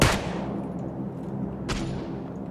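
Two gunshots fired from a car in the Battlegrounds video game, a loud sharp crack at the start and another about a second and a half later, over steady engine-like background rumble.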